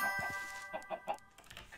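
Chickens cluck in a rapid, uneven series of short calls inside a modded factory-automation video game, moderately close, with faint ringing metallic tones behind them.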